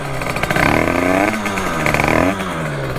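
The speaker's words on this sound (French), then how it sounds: "On fait chauffer la moto et c'est parti." A motorcycle engine, fitted with a very large sprocket, warms up, idling and revving steadily: a loud rough mechanical drone with wavering pitch rising and falling, close by with no voices.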